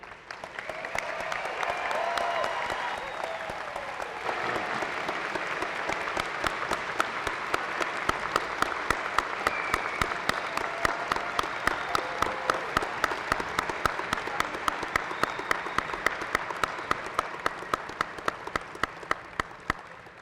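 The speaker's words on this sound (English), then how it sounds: "This concludes the graduates of the Faculty of Science and Technology at Mount Royal University." An audience at the Mount Royal University spring 2017 convocation applauds graduates of the Faculty of Science and Technology, sustained loud clapping that grows into sharper, rhythmic claps toward the end, with faint voices underneath.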